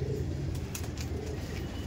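Madras pigeons at a loft in Park Circus coo softly and repeatedly, close by, over a steady background hum.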